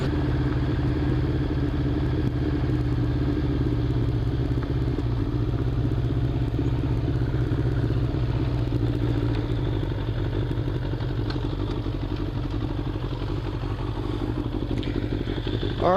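A 1998 Suzuki Bandit 1200 motorcycle, in a state of disrepair, idles steadily with a low engine rumble and faint clattering throughout, no talking.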